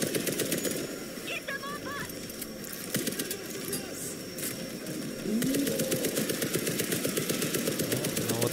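An automated machine gun turret fires in World War Z: Aftermath during a solo extreme run of the Tokyo mission, letting out a continuous rapid stream of shots amid game noise, growing louder and denser in the final few seconds.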